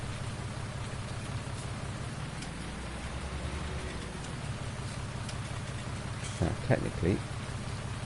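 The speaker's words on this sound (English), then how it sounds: "No, and here comes the rain." Steady hiss of rain falling in the farming video game Farming Simulator 19, a constant wash of drops under someone talking, with a few brief knocks near the end.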